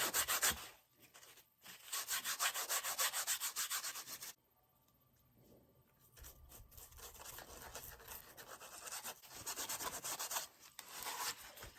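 Wood finish rubbed into a wooden holiday craft project by hand, a steady dry scrubbing and sanding-like friction in repeated strokes, close and fairly loud, with a brief quiet pause midway before the rubbing resumes.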